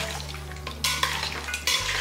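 Country chicken pieces with turmeric stirred in a pan, with a spoon scraping and clinking against the metal in a few strokes over a steady low hum of the stove, close and fairly loud.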